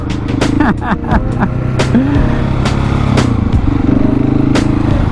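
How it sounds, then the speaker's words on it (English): A 701 motorcycle doing second gear wheelies, a loud continuous engine drone with shifting pitch and revs, plus intermittent clatter and wind noise. "we come down here, we practice second gear wheelies"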